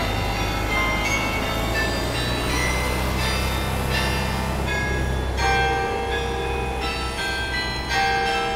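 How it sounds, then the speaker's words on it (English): A carillon of 49 tuned bronze bells in a Dutch-donated singing tower rings out loudly and continuously, layered bell strikes overlapping with long ringing overtones and a steady low hum beneath. "this carillon's original set of 49 tuned bronze bells"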